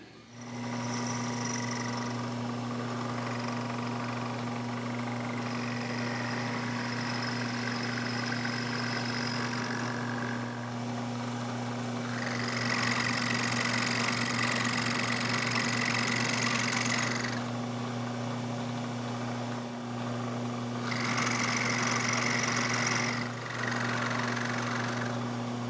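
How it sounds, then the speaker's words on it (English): A milling machine cuts a slot in a chisel sharpening fixture, its motor humming steadily for the whole stretch while bursts of higher cutting noise come and go as the cutter bites into the metal. "we'll set up and mill the slot out"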